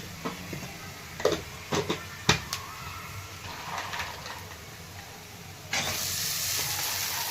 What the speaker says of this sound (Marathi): थोडीशी हळद भाजून घेते मिर्च पावडर चटणी